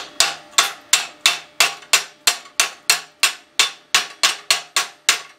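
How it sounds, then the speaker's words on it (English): A chipping hammer knocks slag off a plasma-cut metal piece: sharp metallic knocks struck at a steady rhythm, about fourteen blows in quick succession, each ringing briefly before the next hit, close and loud with no talk. "Basically, take a good old chipping hammer."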